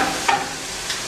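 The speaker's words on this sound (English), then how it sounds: "We got the bacon pretty much rendering." Bacon rendering in a pan, a brief, steady, close sizzle with a couple of small pops.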